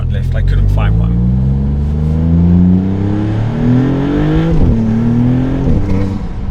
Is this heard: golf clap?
no